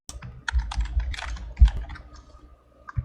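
Rapid, close clatter of keys being typed on a computer keyboard, with an irregular rhythm of taps over a short burst before a brief pause and a final keystroke.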